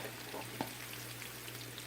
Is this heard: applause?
no